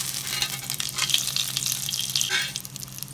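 Whole spices such as fennel, cinnamon, cloves, cardamom and star anise fry in hot oil for a goat intestine curry, giving a loud, bright, continuous sizzle with crackles and a brief stirring scrape, close up and with no talk.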